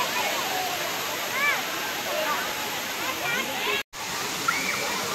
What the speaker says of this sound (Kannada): ಜರಿ ವಾಟರ್ ಫಾಲ್ಸ್ ಇದು.